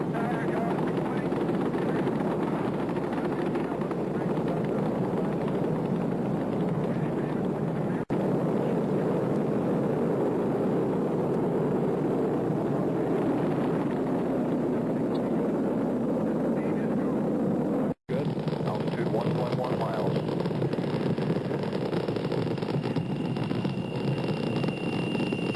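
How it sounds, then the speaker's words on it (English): An Apollo 17 Saturn V rocket lifts off, a heavy, continuous broadband rumble roaring steadily throughout with a brief dropout, as a commentator's voice runs faintly beneath. "Saturn V is moving off the pad."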